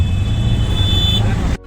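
Road traffic noise heard from inside a moving auto rickshaw stuck in traffic, a loud steady low engine rumble and road roar throughout that cuts off abruptly at the end.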